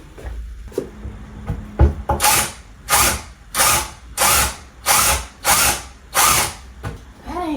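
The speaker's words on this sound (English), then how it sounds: "Where my drill at?" A power drill whirs in bursts against an old armoire, about eight loud, evenly spaced pulses of straining motor noise that start and stop in a steady rhythm, with a few clunks and handling sounds at the start.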